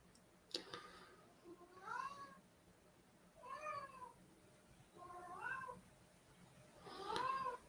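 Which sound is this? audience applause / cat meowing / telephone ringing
cat meowing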